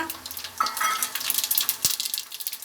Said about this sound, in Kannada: ಈಗ ಎಣ್ಣೆ ಕಾಯ್ದಿದೆ ಸಾಸಿವೆ ಹಾಕ್ಕೊಳ್ಳೋಣ ಕಡಲೆಬೇಳೆ ಉದ್ದಿನಬೇಳೆ